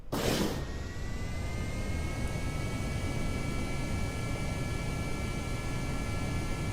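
An aircraft takes off in Kerbal Space Program, opening with a sharp burst that gives way to a steady, loud roaring rush with a faint rising whine, sustained and alone.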